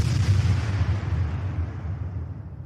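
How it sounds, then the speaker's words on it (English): A loud, sustained explosion rumble with a booming low-end roar that slowly fades over a few seconds, with no voices over it. "I love that red bar explosion."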